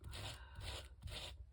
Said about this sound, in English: you can make them look worn very easily by just sanding over the seams like I'm doing here